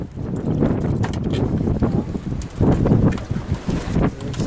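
Strong wind gusting over Netarts Bay on the Oregon coast during a crabbing outing, a loud continuous rush and buffet against the microphone that swells in gusts throughout.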